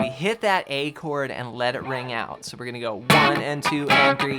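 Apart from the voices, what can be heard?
No distinct noise like a dog, phone or traffic.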